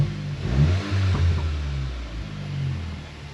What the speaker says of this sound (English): I did start her up and give her some revs real quick